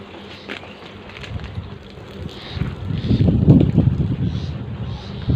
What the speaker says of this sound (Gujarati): પવન જો,